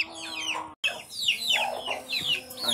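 Hens and young chicks cluck and peep in a steady, overlapping run of short calls close by, briefly cut off by a silent gap early on.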